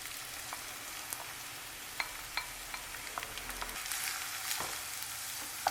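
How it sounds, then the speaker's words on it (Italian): Chopped soffritto vegetables fry gently in lightly heated olive oil in a saucepan, a soft steady sizzle with scattered small pops and crackles, fairly quiet and with no voices. "Riscaldato leggermente l'olio, aggiungo il trito."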